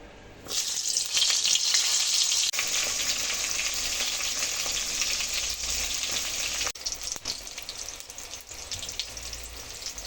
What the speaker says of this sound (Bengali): এখন আমি পটলগুলো ভেজে নেব